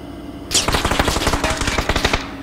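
Sudden loud burst of rapid automatic gunfire in the video game PUBG, close and continuous with sharp repeated shots for about two seconds, no talking.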